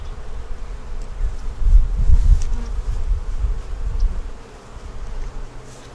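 Honeybees buzz around a hive in a low, continuous droning swarm, close and fairly loud, swelling and easing as individual bees pass near, with no voices.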